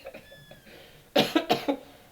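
A person gives a burst of three or four harsh, close coughs after a brief stretch of quiet voice and noise.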